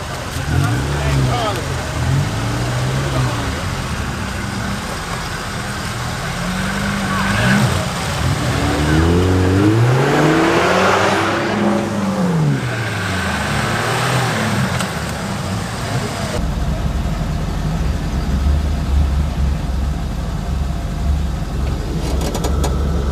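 Suzuki Samurai LWB off-roader driving through a touring rally, its engine droning and revving up and down throughout, close and loud, with people talking over it at times.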